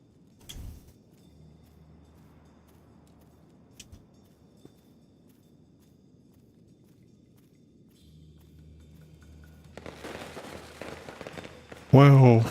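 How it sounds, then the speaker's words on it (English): Firecrackers burst in the video game Nine Sols, a quick cluster of sharp crackling pops rising toward the end after a mostly quiet stretch of faint thumps and ambient hum. "Wow, firecrackers."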